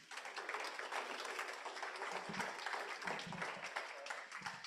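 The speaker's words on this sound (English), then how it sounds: "But let's give a round of applause to the panel." Audience applause for a panel at a healthcare startup conference session, steady and faint-to-moderate clapping filling the room with no break.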